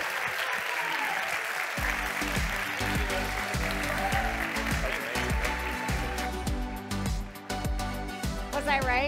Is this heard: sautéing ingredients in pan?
no